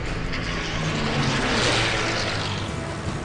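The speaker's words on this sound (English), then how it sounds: "His Merlin engine screams as the Mustang accelerates past 350 miles per hour." The Merlin engine of a P-51 Mustang roars loud and continuous during a diving attack, a dense rushing drone that swells slightly midway.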